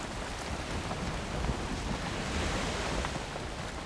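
Sea waves wash steadily against a sailing boat in the video game Valheim, a continuous broadband rush of surf and wind with no distinct breaks, fairly close and even in loudness throughout.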